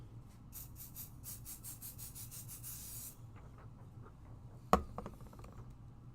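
A rapid series of short spray bursts hisses for about three seconds, followed by quieter handling noises and a sharp click.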